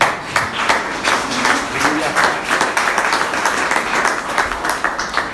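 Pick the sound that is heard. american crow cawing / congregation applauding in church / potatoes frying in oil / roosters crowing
congregation applauding in church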